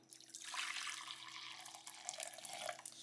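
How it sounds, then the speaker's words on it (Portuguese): Someone pours 200 ml of hot water into a pickling brine for preserved eggs. The water runs as a steady, fairly close splashing stream for about three seconds. "Então aqui eu vou colocar 200 ml de água quente"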